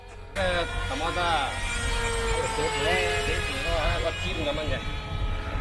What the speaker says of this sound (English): That sounds like very rough. Maybe there's some sand stuck in the motor.